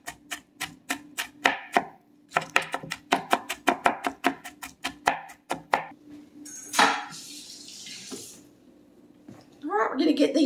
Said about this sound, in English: go ahead and try to chop it a little bit more